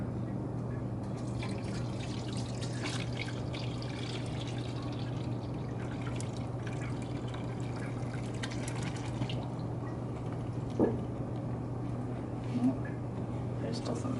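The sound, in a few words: pouring hot natural dye liquid through cloth strainer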